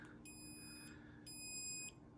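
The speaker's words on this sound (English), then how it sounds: "It's beeping." A Bluetti AC200P portable power station sounds two evenly spaced high electronic beeps, each about half a second long, clear but quiet in an otherwise still room.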